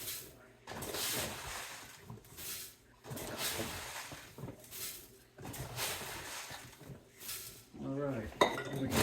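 Grain scooped into quart jars, with repeated scraping and clinking bursts roughly every two seconds and a sharper glassy rattle near the end, loud and close.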